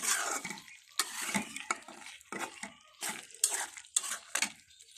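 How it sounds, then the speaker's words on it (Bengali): Potato being sautéed with beef tongue and head meat in a pot, heard as rhythmic spoon scraping and clattering against metal every half second or so over a faint sizzle, no talking. "আলুটাকে এটার সাথে সুন্দর করে আমি কষিয়ে নেব।"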